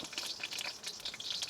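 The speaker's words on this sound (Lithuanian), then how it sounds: "kaip kepa sosedžiai greitai" Sausages fry in a hot pan, a close, bright crackling sizzle with irregular pops and spits running continuously and alone for a moment.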